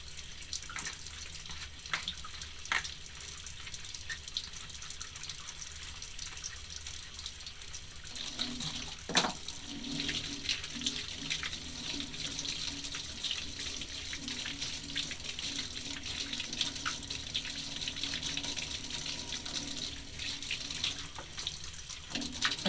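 Tap water running into a sink while a soapy paint brush is rinsed and combed out, a steady faint splashing hiss with occasional clicks and knocks, continuous and without talk.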